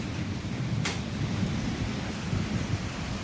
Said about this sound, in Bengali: প্রচন্ড পরিমাণ বাতাস তুফান